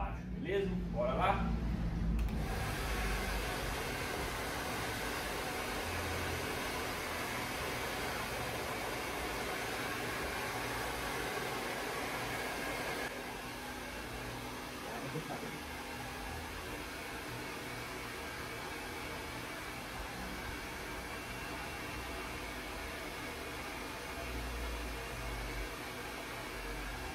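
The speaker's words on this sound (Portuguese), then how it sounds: "Secador ligado no máximo." Hair dryer running on maximum during beard styling, a steady, loud blowing whir that holds for the whole stretch, stepping slightly quieter partway through, with some talking early on.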